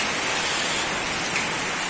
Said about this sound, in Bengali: দেখেন প্রচণ্ড বৃষ্টি হচ্ছে প্রচণ্ড বৃষ্টি হচ্ছে